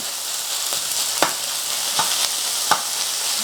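Minced pork browns in a hot pan with a steady close sizzle and frying hiss, broken by a few soft stirring scrapes, no voices.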